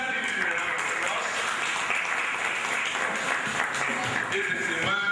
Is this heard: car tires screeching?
no